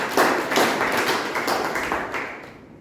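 Audience at a Toastmasters meeting claps together in a short burst of applause that swells, then fades out over a few seconds, with no talking.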